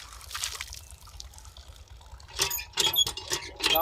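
Fresh water from a village hand pump in rural Punjab, Pakistan, splashing as hands and face are washed: quiet trickling at first, then louder bursts of splashing close by.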